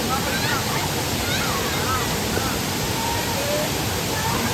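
Ezharakund waterfall pours in a steady, loud roar of rushing water, a dense broadband wash that runs unbroken throughout with no distinct events.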